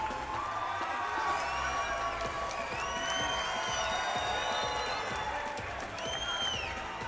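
A fight crowd at the Nations Collide event between Sarria and Keller cheers and applauds, a dense steady roar with whoops and shouts that stays loud and close throughout.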